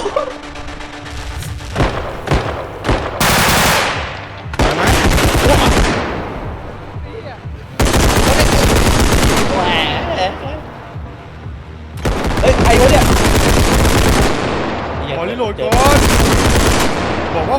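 Bursts of automatic gunfire in the realistic shooter game Bodycam, loud rapid volleys separated by short pauses, with excited voices talking over the shots.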